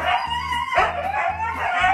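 A husky yowls and howls in a drawn-out, wavering vocal cry, rising and falling in two close loud bursts against a low background hum.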